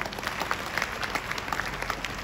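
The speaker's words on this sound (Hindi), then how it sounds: "आपके लिए एक बार जोरदार तालियां हो जाए।" Audience applause in a seminar hall, a steady wash of many hands clapping at moderate loudness with no voices over it.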